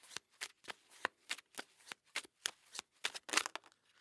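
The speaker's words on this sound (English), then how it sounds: "Just do another quick shuffle here." A deck of tarot cards is shuffled in quick, crisp riffles and slaps, about a dozen soft bursts in a steady rhythm, close and quiet with no talking.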